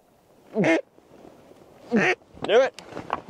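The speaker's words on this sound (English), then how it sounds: "I got two mallards out to the right" Mallard ducks on a dry lake give three loud, close quacks, two single calls and then a rising burst, separated by quiet gaps with faint background noise.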